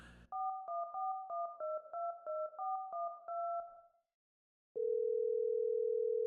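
Touch-tone phone dialing: a quick, steady run of about a dozen paired DTMF beeps, then a short pause and a continuous, loud dial tone.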